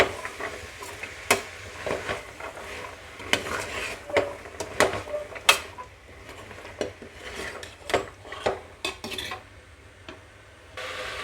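A spoon scrapes and taps against a pot while chickpeas are stirred into a chana masala, irregular close clinks and scrapes over a faint sizzle, with no talking.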